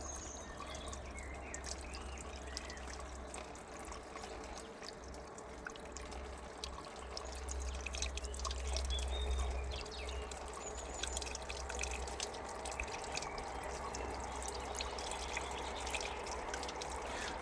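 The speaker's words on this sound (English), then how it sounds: "Now I'll get the hose and we'll top it up with some water" Water runs steadily from a hose into the radiator of a vintage Thornycroft Amazon Coles crane truck, a faint continuous pouring and trickling stream heard alone throughout.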